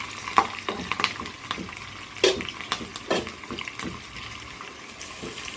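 Gongura pulihora tempering frying in hot oil, a steady crackling sizzle with sharp pops and stirring scrapes, close and fairly loud, with no one talking.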